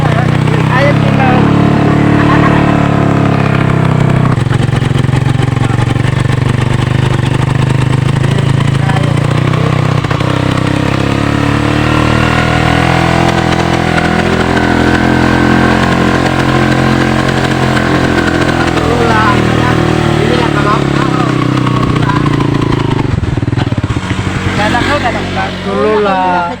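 A motorcycle engine straining uphill on a mountain farm road, a loud, steady, continuous drone close by with a shifting pitch, while people talk over it throughout.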